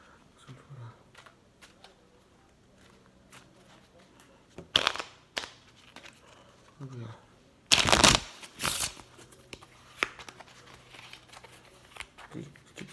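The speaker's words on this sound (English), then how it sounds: "So I have to shuffle all the deck." A deck of playing cards is shuffled in quick riffling bursts, with two louder, denser riffles standing out among lighter taps and flicks of card handling; the sounds are close and crisp, with occasional brief low murmurs in between.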